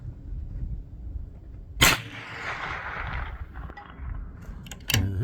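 A Bergara B14 rifle fires a single CCI Mini Mag .22LR round at long range, a sharp crack with a short decaying tail over outdoor background noise, followed near the end by a second faint snap.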